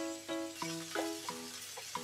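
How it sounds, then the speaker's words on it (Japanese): Sliced meat sizzles and crackles steadily in a hot pan while being stir-fried for yakisoba, with clatter of utensils over the constant frying hiss, close and fairly loud. "私が切ったお肉を炒めます。 いやー、ジュージューいってます"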